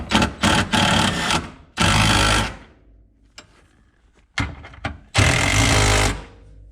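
A small impact wrench tightens bolts on a car in several loud bursts of rapid hammering, each lasting about a second, with short pauses and a faint quieter stretch between them.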